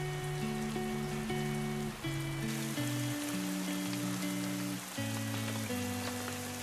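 Steady rain patters outside in an even wash of noise, layered under gentle sustained melodic tones that shift in pitch.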